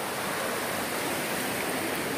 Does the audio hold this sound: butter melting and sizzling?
no